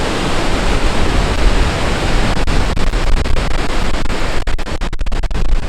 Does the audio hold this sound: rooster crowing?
no